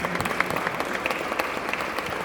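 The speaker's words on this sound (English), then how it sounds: "Give her a round of applause." Audience applause at an airline symposium held at Martin State Airport, a steady, dense clapping from a crowd filling the whole moment without pause.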